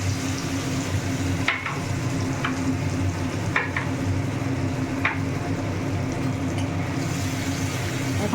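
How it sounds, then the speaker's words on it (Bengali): Spice paste fries in hot oil with a steady, close sizzle, broken by a few sharp scraping stirs of a spoon against the pan. "এখন মশলাটাকে ভালো করে কষিয়ে নেব।"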